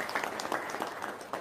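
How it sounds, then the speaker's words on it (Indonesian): An audience breaks into applause, a short burst of dense, steady clapping from many hands heard close and fairly loud. "Wah, tepuk tangan dong."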